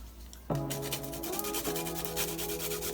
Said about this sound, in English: I'm just gonna grate the garlic